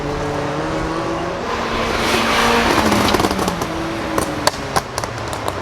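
2014 Ford Focus race car on a track at Carlisle Ford Nationals, its engine rising in a building roar as it nears, followed by sharp popping crackles from the exhaust, loud and close.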